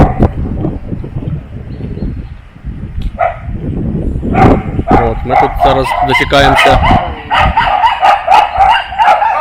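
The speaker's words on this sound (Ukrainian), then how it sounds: "Тут цуценята малі напали на наших людей." Small puppies yap and bark rapidly in a high-pitched chorus, close by, while a person speaks over the noise.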